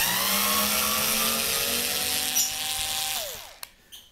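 Bosch IXO IV cordless screwdriver (2012 model) whining steadily under load, its motor pitch sagging as it strains to turn, then winding down and stopping with a couple of faint clicks near the end.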